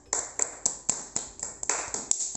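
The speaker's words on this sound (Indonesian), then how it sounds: "Kita beri tepuk tangan untuk kelompok 3" A small classroom group gives a short burst of scattered hand claps for a presenting team, about a dozen sharp, uneven claps close by with no talking.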